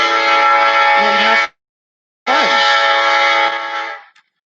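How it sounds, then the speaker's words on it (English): A train horn blasts loud and close in two long sustained bursts separated by a brief gap, the second fading away at the end, with a faint voice barely audible beneath it. "Sorry for the train."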